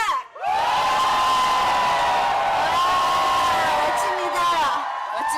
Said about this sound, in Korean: 자, 함성 한번 시작해 보겠습니다